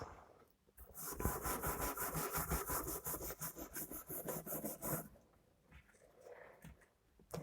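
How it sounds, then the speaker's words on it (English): A wire brush scrubs rusty dry residue from the channel of a knitting machine, a close, fast rhythmic rasping that runs for several seconds, then slows to lighter strokes. "once you've wire brushed the rusty dry residue out and you've wiped it down"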